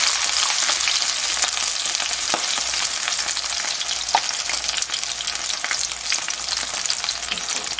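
Seafood green onion pancake batter spattering in a frying pan, loud continuous close sizzle with scattered sharp pops and crackles throughout, no voices.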